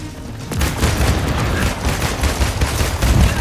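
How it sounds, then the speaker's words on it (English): Loud, dense burst of explosive booms and rapid gunfire-like blasts from a rocket launcher in the Marvel's Avengers video game on PS4, continuous for the whole short stretch with no talk. "Oh, rocket launcher."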